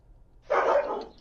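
A dog gives a short burst of barking that stands out clearly over a quiet outdoor background as a woman takes mail from the doorstep.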